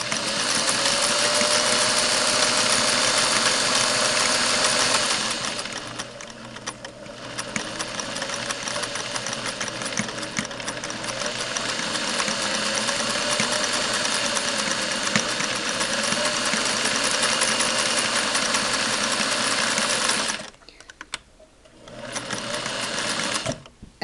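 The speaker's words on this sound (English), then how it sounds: "So this is five layers that it's sewing through without a problem." A Singer sewing machine from around 1960 to 1962 stitches through five layers of material. Its loud, rapid, even mechanical chatter runs on and on, dips briefly near the middle, and stops for a moment shortly before the end.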